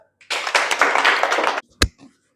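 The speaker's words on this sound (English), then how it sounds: "Claps." Schoolchildren in a girls' English-medium school classroom clap together in a brisk burst of about a second, followed by a single sharp tap.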